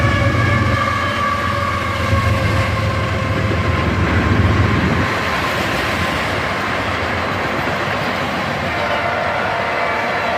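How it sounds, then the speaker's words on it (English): On a gloomy weekend morning, a southbound tanker train led by Canadian Pacific locomotives thunders by close at hand, with a brief tonal horn-like note early on over a continuous roar of engines and rolling cars. "we caught this southbound tanker train led by Canadian Pacific locomotives"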